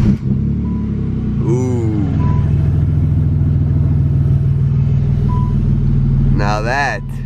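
A BMW E30 with an M50 engine and a full 3-inch exhaust idles with a steady, loud low rumble throughout, while brief interjections from a nearby voice come and go over it.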